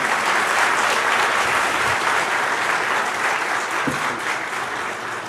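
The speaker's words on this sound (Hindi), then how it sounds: "अरे भाई तालियां इतनी धीमी सी हैं?" Sustained applause from a large audience at the HT Summit 2025, a dense, even roar of clapping that holds steady for several seconds before easing slightly at the end.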